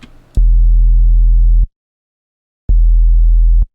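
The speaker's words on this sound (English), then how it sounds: "So now I have a sub bass here, so if I play this in solo, you're just gonna get that, so just sub." A sine sub bass synth patch in Phase Plant with slight saturation plays two sustained low notes, the first about a second long and the second shorter, with silence between them and a brief click before the first.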